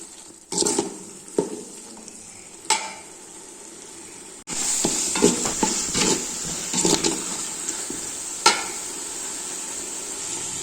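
Ginger garlic paste sautéing in a pan for chicken biryani, a steady hiss of sizzling oil with scattered utensil taps and stirring scrapes, louder after a brief pause midway; close, with no voices.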